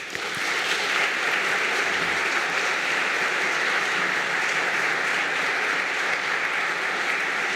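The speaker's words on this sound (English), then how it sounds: "we would still like to give a big round of applause for him" A hall audience at an examination ceremony claps in loud, dense, even applause that holds steady for the whole stretch.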